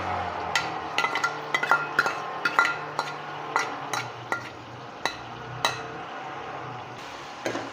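Mutton fries with ginger, garlic and green chili paste in a karahi, a soft sizzle broken by frequent sharp clinks and scrapes of a metal spoon against the pan, close and irregular, with no talking.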